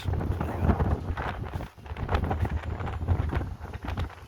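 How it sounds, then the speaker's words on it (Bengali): Strong gusty wind in Chittagong buffets the microphone in loud, rough blasts with a brief lull partway through. "অনেক বাতাস, বাতাসের গতি অনেক, বাতাসের গতি কিন্তু অনেক।"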